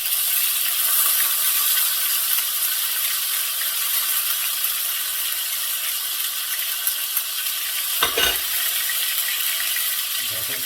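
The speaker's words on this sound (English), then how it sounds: "Now you don't want to burn your garlic, you just want to cook the raw flavour out of it" Garlic fries in oil in a pan with a constant close crackling sizzle, a dense even hiss broken by a brief stirring scrape near the end, and no voices.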